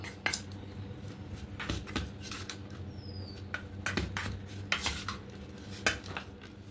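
A spoon clinks and scrapes against a bowl while bread pizza topping is mixed with chili flakes, giving soft irregular taps and squishy stirring in a quiet kitchen.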